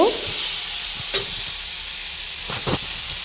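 Masala frying in a pan for a Bengali fish curry with cauliflower, sugar added, a steady hiss of sizzling with a few brief stirring scrapes near the start, middle and end.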